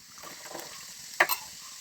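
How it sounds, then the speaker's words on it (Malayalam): Chopped ginger, garlic and curry leaves sautéing in hot oil for lemon pickle, with a soft, steady sizzle and a couple of sharp crackles as the mixture is stirred, close and fairly quiet. "കുറച്ച് കരിയാപ്പില, ഇത്രയും ഇട്ട് ഇതിനെ ഒന്ന് നന്നായിട്ട് വഴറ്റിയെടുക്കുക."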